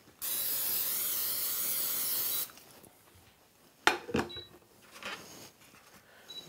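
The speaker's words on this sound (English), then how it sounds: "Going to respray." Cooking spray hissing onto a pan on a NuWave2 induction cooktop in one steady burst of about two seconds, followed by faint clatter and a few soft knocks.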